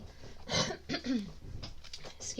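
A person clearing their throat, a couple of short rough rasping bursts close to the microphone, with a brief vocal sound in between.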